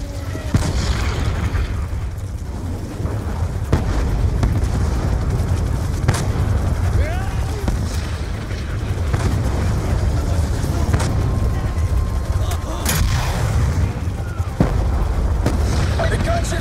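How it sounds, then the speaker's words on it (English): Bombing in a Call of Duty battle, with heavy booms and explosions rumbling almost continuously alongside sharp cracks of gunfire, while voices talk over the din. "Stop bombing me."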